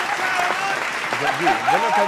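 An audience at a political talk show bursts into loud, sustained clapping that fills the room, with a few voices and cheers rising over the applause near the end.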